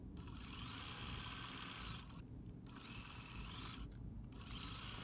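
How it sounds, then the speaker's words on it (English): A sewing machine whirs in a steady, continuous run, briefly easing off twice, while stitching a seam between blocks of a T-shirt quilt top; the sound is faint and close with no talk. "We will sew that seam."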